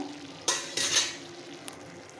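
Cooked pumpkin greens stirred in a pan, with a few scraping strokes and soft sizzling against a quiet background.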